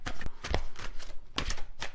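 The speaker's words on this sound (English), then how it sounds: "This is such a big deck. It's a little hard to shuffle" A large, oversized deck of tarot cards being shuffled by hand: repeated riffling bursts of papery flutter and soft slaps, close and fairly loud, in an uneven rhythm with brief pauses between shuffles.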